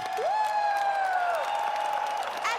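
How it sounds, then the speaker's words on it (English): A huge arena crowd of about 37,000 at the Eurovision Song Contest applauds and cheers in a steady, dense roar, with a sustained whistle-like tone gliding over the noise. "So let's give them a great applause."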